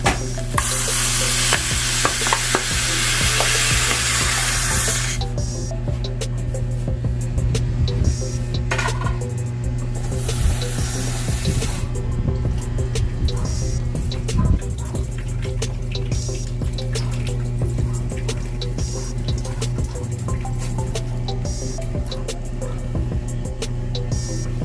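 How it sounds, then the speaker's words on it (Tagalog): Water is poured into a pot of galunggong fish cooking over low heat for sinaing na galunggong, giving a loud sizzling, splashing rush for several seconds that then settles into a steady simmering bubble with light stirring clatter. "Then guys, lalagyan na natin siya ng tubig."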